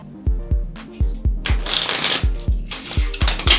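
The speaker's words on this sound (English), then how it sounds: "So, once again, give them a shuffle." A deck of ordinary playing cards is riffle-shuffled up close, giving quick papery fluttering bursts over a steady run of soft thumps, loud and with no voices.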